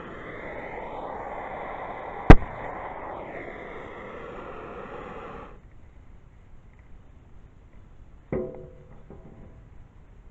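Pure oxygen detonates with one sharp, loud bang; a broad rushing hiss runs before it and cuts off, and a second, smaller pop follows a few seconds later.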